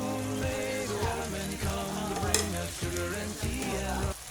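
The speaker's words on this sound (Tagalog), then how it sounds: "halu-haluin lang mga katambay hanggang magluto ang ating patatas at carrots" Chicken curry with potatoes and carrots stirred and sizzling in a pan, a continuous frying crackle with repeated rhythmic scraping strokes, while music plays underneath.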